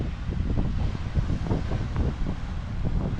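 Strong wind buffets the microphone in a steady, broadband roar with gusty low thumps, loud and close, with no voices.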